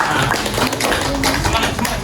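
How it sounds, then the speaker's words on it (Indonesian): A group clapping together in a classroom or hall, dense overlapping claps continuing for a couple of seconds, fairly loud and close. "kita tepuk tangan untuk kita semua"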